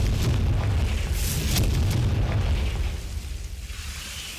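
Confringo blasting spell in a Hogwarts game, a loud rumbling explosion with crackling bursts that holds steady for about three seconds and then dies away into a softer, flickering tail.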